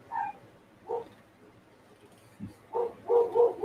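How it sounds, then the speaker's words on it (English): A dog barks upstairs indoors, muffled by distance: a couple of single barks, then a quick cluster of several barks near the end. "the dog's barking upstairs."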